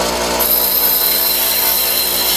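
Bench grinder shaping a lathe tool bit, a steady loud bright grinding whine held throughout without pause, with no voices.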